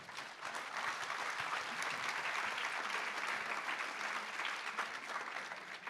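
An audience at a national congress applauds two speakers in a hall with dense, sustained clapping, steady and moderately loud throughout, heard from within the crowd.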